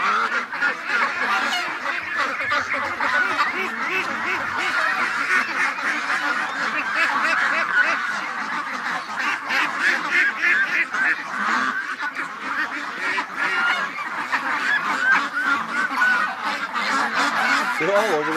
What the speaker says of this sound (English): The ducks are everywhere.